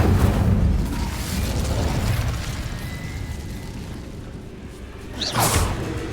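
Incendio fire spell cast in Hogwarts Legacy, a burst of roaring, whooshing flame at the start that fades into a lingering crackling rumble, followed by a second sharp whooshing blast near the end; no voices.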